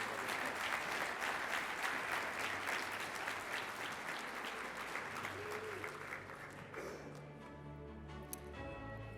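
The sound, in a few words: audience applause for award winners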